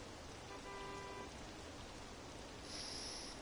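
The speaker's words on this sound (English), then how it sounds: "Oh, it's raining." Steady, soft rainfall in the video game Persona 5 Royal hisses continuously, with a faint brief chime in the background.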